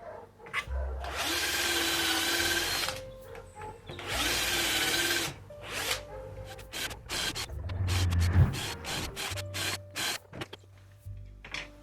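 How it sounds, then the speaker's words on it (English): A power drill boring holes through a wooden jig: two long, close, steady whirring bursts, then shorter start-stop spurts and clicks as the bit is worked and withdrawn. "you drill as deep as it'll go, and then you move on to the next one"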